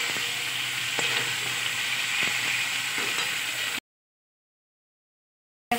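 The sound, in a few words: tomatoes added to sizzling pan with lata fish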